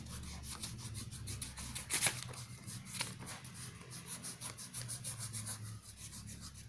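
Shading marks are rubbed off a board with quick, repetitive scrubbing strokes, soft and close, with a brief harder scrape partway through.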